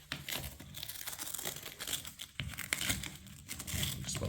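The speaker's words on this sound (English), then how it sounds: "you basically peel off the mop pad." A mop pad peeled off the disc of a Dreame/Xiaomi robot vacuum cleaner, close crinkling and tearing rustles that come in uneven bursts for several seconds.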